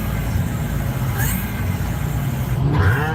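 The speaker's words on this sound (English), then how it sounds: "Engine sounds phenomenal. No hesitation." A four-cylinder American tuner car engine idling and revving, a steady mid-pitched hum heard from up close and rising briefly near the end, with no voices over it.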